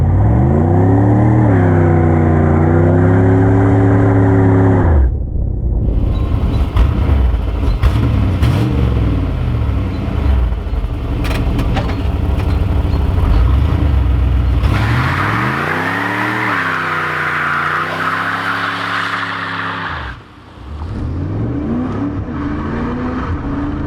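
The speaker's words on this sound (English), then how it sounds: "the car does like to spin the tires" A 1987 Pontiac Trans Am GTA with a TPI engine revs hard and spins its tires on wet pavement. Loud, close, rising and falling engine sweeps come in two long bursts, with a hissing tire roar between them.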